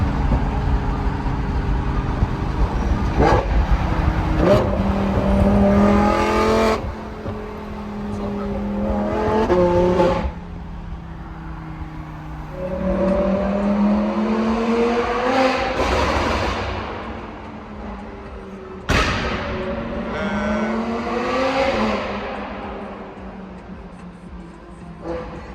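A BMW M6 Gran Coupé engine revs repeatedly in rising and falling sweeps, with sharp exhaust cracks between rev bursts, loud and close, while people talk over it.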